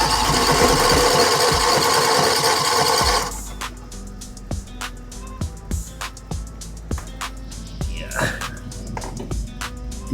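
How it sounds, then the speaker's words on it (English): A starter motor cranks an old engine, first a loud dense whirring burst, then slower uneven chugging turns that never catch, with faint talk underneath. "You don't want to run the starter too long."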